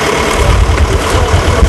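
A tractor engine idles steadily with a low, continuous rumble and vibration while driving a giant ladle that stirs a huge pot of feijoada.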